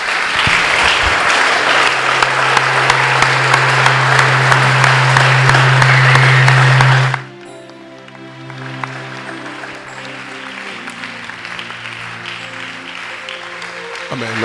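Loud, dense applause from a church congregation, steady and sustained for about seven seconds over a low sustained tone, then giving way to quieter organ or keyboard music with scattered lingering sounds.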